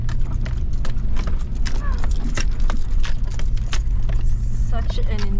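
A car driving along a road near Pejar Dam, a steady low engine and road rumble throughout with scattered clicks, rattles and jangling from inside the vehicle, while people talk over it.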